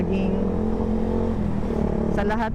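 Suzuki Gixxer 155 motorcycle fitted with an SC Project exhaust, idling with a steady deep burble throughout and a brief blip of revs near the end, close and loud.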